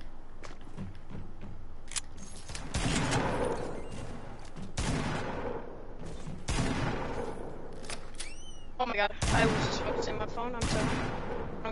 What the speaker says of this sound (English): he's got a shotgun! I'm dead.